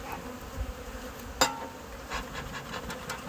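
A dense, steady buzz of many bees close by around an open hive, with one brief knock partway through.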